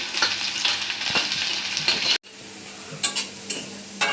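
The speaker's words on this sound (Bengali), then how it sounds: "পেঁয়াজ রসুন মরিচ বাদাম করে ভাজে নিব" Chopped onion, garlic and chili sizzle and fry in oil in a village kitchen, a dense steady crackle with occasional stirring clinks after a brief break.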